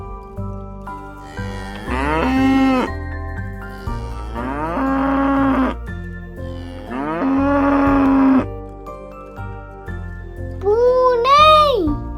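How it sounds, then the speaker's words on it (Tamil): A cow moos four times in long, drawn-out calls separated by short pauses. The sounds come from a children's lesson on animal names and sounds in Tamil, with a bright upward final call. "பசு"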